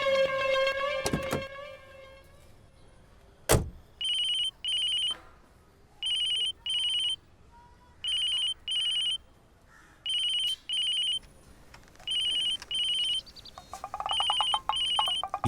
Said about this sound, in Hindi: ये कैसा फोन है,